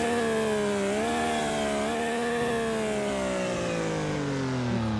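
A supercharged BMW car engine revs loudly and continuously, its strained tone climbing and dipping in pitch several times, close up with no talking.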